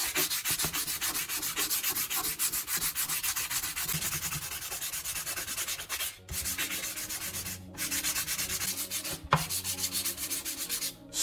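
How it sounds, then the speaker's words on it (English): Medium grit sandpaper rubbing steadily along a wooden hammer handle, loud and close, a continuous scratchy back-and-forth with a few brief pauses as the strokes change. "Sand the entire handle evenly using medium grit sandpaper."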